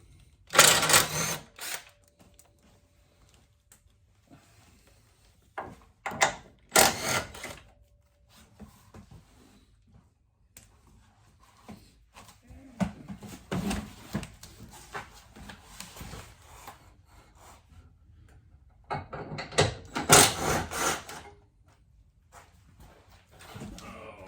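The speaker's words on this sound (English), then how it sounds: "So now I'm going to go along and take all the bolts out that go in." Bolts coming out of 6-inch Yitamotor running boards on a 2021 Jeep Gladiator, with a few short loud bursts of a whirring tool separated by quieter clanks and handling noise, without talk.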